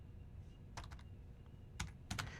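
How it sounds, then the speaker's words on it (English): A computer keyboard in a network configuration lab: three short bursts of rapid close keystrokes separated by quiet pauses, with no talk. "I'm going to type show"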